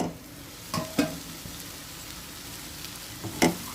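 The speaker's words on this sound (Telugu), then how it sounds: "ఒకసారి తిప్పేసుకుని చక్క అయితే ఫ్రై అయిపోయినాయి బెండకాయ పచ్చిరొయ్యలు ఫ్రై అయ్యాయి" Raw prawns and okra frying in a pan give a low continuous sizzle, broken by a few short scraping stirs, two close together early and another pair near the end.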